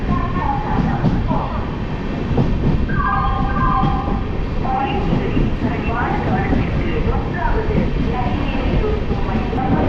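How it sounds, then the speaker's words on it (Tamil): The Cholan Express train rumbles and rattles steadily as it pulls away from Tambaram station, wheels clacking over the track, with someone talking over the noise throughout. "இந்த சோழன் எக்ஸ்பிரஸ் ஸ்டார்ட் ஆகிடுச்சிங்க"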